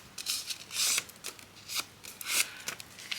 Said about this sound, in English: I'm going to fold this in half actually